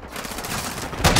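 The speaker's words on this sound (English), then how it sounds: "Oh, I got sniped." A sniper rifle shot in the Call of Duty video game sounds as one sharp, loud crack near the end of a brief, noisy stretch of game audio.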